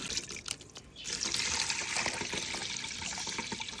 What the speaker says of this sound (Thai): ล้างไปแล้วนะคะ ล้างอีกค่ะนี่ค่ะ นี่ค่ะ ล้างให้สะอาด